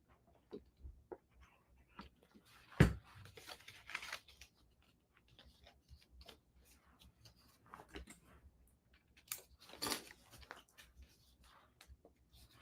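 Scissors trim paper for a printable 3D card, with quiet, scattered snips and light paper rustles, including a sharper cut near the start, in a calm room with no talking.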